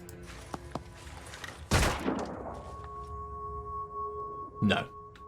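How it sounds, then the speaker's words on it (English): A pistol fired into the ground in the tactical video game Phoenix Point gives one sharp, loud report around the middle, followed later by a second burst of impact noise amid low background game tones. "Maybe shooting out the ground with a pistol?"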